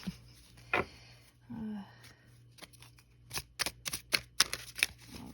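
Crisp riffling and flapping of a deck of cards being shuffled several times, quick rapid bursts close by, with quiet pauses between.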